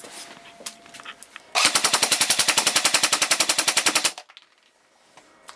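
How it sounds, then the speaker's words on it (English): An ASG/SRC MP40 airsoft gun fires a rapid, even full-auto burst lasting about two and a half seconds, loud and close, after a few faint clicks and handling noises, then falls quiet. "And now we're going to do a quick burst test."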